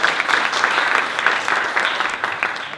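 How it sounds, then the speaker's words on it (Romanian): An audience at a hotel business marketing event claps, a dense burst of applause that holds steady and slowly fades toward the end. "Te rog, un aplauze!"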